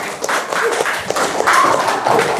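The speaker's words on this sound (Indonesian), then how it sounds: "Beri tepuk tangan." A small classroom group clapping hands together after a closing greeting, with a busy, continuous patter of close claps filling the space.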